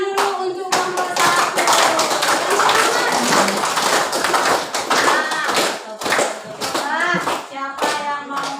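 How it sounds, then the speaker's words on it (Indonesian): Students in a classroom clap for the first presentation group, a dense, steady burst of hand claps lasting several seconds, close and loud, with scattered children's voices mixed in. "Tepuk tangan dulu untuk nomor 1"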